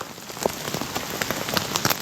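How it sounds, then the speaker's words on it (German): Hail and rain pelt down outdoors during a hike, a dense continuous patter broken by sharper, scattered impacts that come close and fairly loud, with no voices. "Hagel, aber nicht zu knapp."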